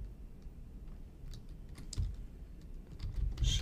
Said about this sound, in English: I typed in Weldon Spring AC repair.